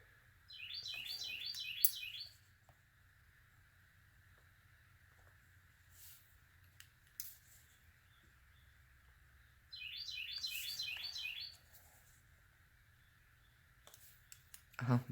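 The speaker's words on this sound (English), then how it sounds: "The bird's got another bird answering him now." Birds calling back and forth outdoors, two bursts of rapid high chirping trills several seconds apart over a faint steady background hum, with scattered soft clicks between them.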